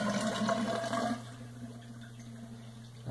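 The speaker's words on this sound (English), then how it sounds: "Pouring again all 200 milliliters of water into the container." Two hundred millilitres of water poured into a container of coarse sand for a porosity and permeability lab, a close, splashing rush for about a second that drops to a quieter trickling and settling.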